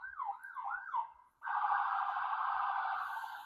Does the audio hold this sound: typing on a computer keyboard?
no